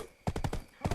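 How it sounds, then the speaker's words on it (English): Horse in the video game Black Desert Online, a quick run of close hoof clip-clops followed by a short neigh, brief and fairly quiet. "I need to move my horse or it's gonna get attacked."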